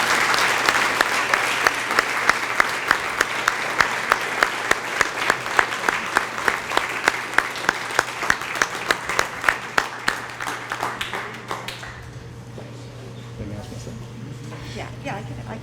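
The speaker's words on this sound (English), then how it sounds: "Give yourselves a nice big round of applause." A large crowd at a middle school grade 8 awards and promotion ceremony applauds loudly and steadily for about twelve seconds, then the clapping thins out and fades into room noise.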